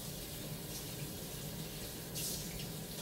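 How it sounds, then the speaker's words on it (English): Cilantro is rinsed under a running kitchen faucet, making a steady, even rush of water that lasts throughout and swells briefly near the end. "I'm just rinsing off my cilantro."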